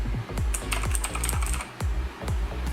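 Keys tapped on a CyberPower Scorpion RGB mechanical keyboard, a close series of crisp, uneven clacks with short pauses, heard alone.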